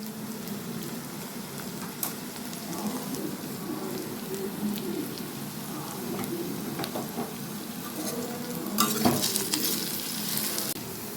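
Two large onions sizzling in hot oil in a pan with turmeric, stirred steadily, a continuous close frying hiss with scraping stir strokes and a louder burst of sizzle near the end.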